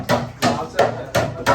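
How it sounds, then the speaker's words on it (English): Workers on a building site hammer jig stakes into the ground: five sharp, evenly spaced strikes about every 0.35 seconds, close and fairly loud, with faint site noise between the blows. "Lads are just hammering jig stangers in."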